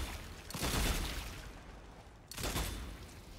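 Gunfire in the Strange Brigade video game, fired at a sinister swarm: two loud, dense bursts of shooting, the first lasting over a second and the second starting after a short lull.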